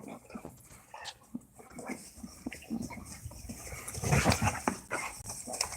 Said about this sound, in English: Blackberry Brandy loves playing with puppies.